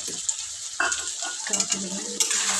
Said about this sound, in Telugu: అలాగే ఒకసారి కలుపుకొని వంకాయ అయితే బాగా మగ్గిపోవాలి మనకి నూనెలోనే